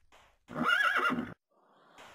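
A horse in Minecraft whinnies loudly for under a second, a bright wavering neigh, framed by quieter snorting breaths before and after.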